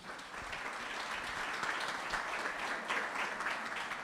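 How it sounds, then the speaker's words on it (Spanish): At a medical clinic symposium, the audience gives a warm, steady round of applause to welcome the speaker. The clapping stays moderately loud and continuous throughout, with no voices over it. "Lo recibimos con un fuerte aplauso."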